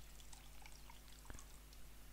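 Soda pours into a glass while a mojito is made in an AE Mysteries Christmas Killer game scene, a short, faint, steady trickle of liquid with a single soft tap partway through.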